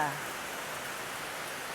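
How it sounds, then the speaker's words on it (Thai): Steady rain falls all day, a soft, even hiss of drops on surfaces that stays constant and fairly faint, with a brief voice fragment at the very start. "ฝนตกทั้งวัน"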